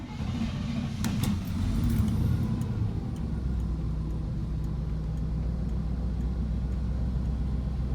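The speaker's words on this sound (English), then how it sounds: "We're gonna do a startup just after we installed the negative side of the battery after replacing the IAC valve" A GM TBI engine in a C10/R10 truck starts up after an idle air control valve replacement, then settles into a low, steady, close idle rumble.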